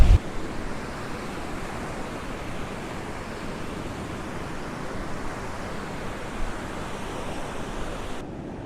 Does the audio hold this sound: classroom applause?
no